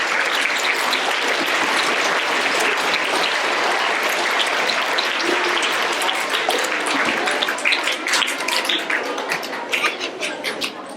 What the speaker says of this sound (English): give a round of applause to all of our first grade class